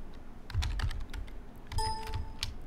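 Typing a command on a computer keyboard while configuring a pfSense firewall on a WatchGuard Firebox, a few quick clusters of close, crisp key clicks with a short pause between bursts, quiet room with no talk.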